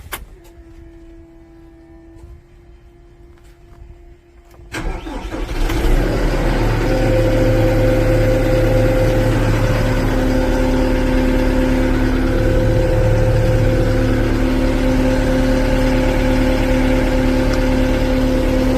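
A large used Dongyang 129-horsepower tractor sits quietly with a faint hum, then its diesel engine starts with a sudden clatter and settles into a loud, steady idle.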